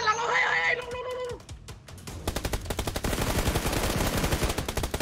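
Video game gunfire with rapid, continuous automatic bursts that fill the second half of the clip, preceded by a tonal game sound and a few scattered shots.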